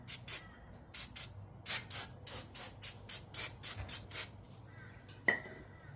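A degreaser spray can fires a series of about fifteen short, rhythmic hissing bursts onto a Cub Intellipower engine, close and fairly quiet, followed by a light metallic clink.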